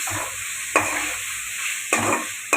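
Chicken gravy with curry leaves being stirred in a pan: a steady close sizzle with three sharp spoon scrapes against the pan spaced unevenly, no voices.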